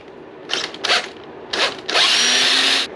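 A cordless power drill removes two bolts beneath the foot peg of a Yamaha Tenere motorcycle, with two short whirring bursts followed by a longer sustained run, loud and close with no talk.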